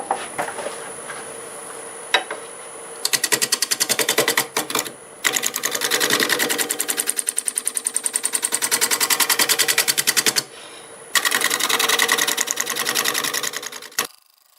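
A negative rake scraper working maple burl on a wood lathe: loud rapid chattering bursts with a fast ticking rhythm, broken by short pauses as the tool comes off the spinning wood, with a steady high whine under it.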